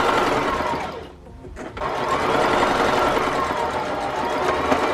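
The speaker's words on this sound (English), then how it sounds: "Now we're going to take this bow piece and sew all along this side and right here as well." A sewing machine stitches along the edge of a fabric book or tablet sleeve with a bow piece. It makes a loud, close, continuous whirring drone with one short pause before running steadily again.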